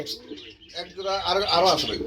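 Chila pigeons coo in low, rolling murmurs close by at a pigeon farm, with several birds overlapping and a voice talking faintly in the background.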